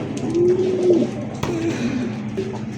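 Pigeons at a bustling pigeon market give low, rolling coos that repeat several times over a dense background of crowd murmur and rustling.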